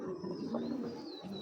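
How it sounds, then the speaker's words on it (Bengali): A Bezi-line domestic pigeon gives a soft, low cooing that drones faintly and fairly steadily over a quiet background hiss. "এটা হলো বেজি লাইনের কবুতর, হ্যাঁ বেজি লাইনের কবুতর"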